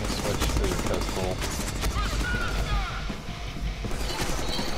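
Pistol gunfire in the Deadpool video game, rapid repeated shots mixed with game effects and music, loud and dense throughout.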